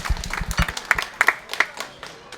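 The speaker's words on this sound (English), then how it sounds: "Everybody's clapping." Passengers aboard the Celebrity Apex cruise ship clap after a rescue at sea, a short burst of scattered, uneven hand claps from a modest group, close and fairly crisp before thinning out.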